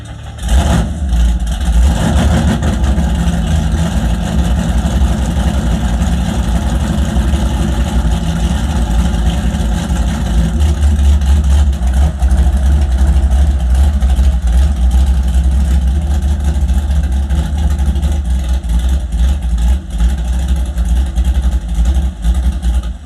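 A Camaro engine idles loudly and steadily up close, a continuous rough rumble that barely changes for the whole stretch.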